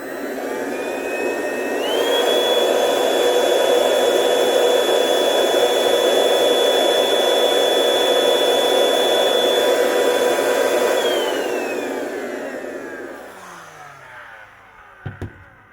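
Parkside cordless vacuum cleaner running a suction test with filters installed: motor spins up to a loud, steady whine held close for about ten seconds, then winds down, ending with a couple of clicks.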